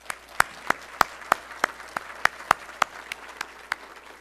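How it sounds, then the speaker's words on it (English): An audience at a manufacturing excellence awards dinner applauds, with sharp, evenly spaced claps standing out over a soft, continuous spread of clapping across the room. "So I'd like to give a round of applause for everyone who put that on."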